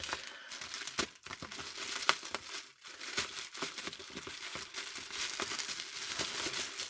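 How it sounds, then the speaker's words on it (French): Bubble wrap packaging is pulled open and handled, giving a continuous close crinkling and rustling of plastic with sharp crackles and pops throughout, soft overall. "je vais tout ouvrir le papier bulle"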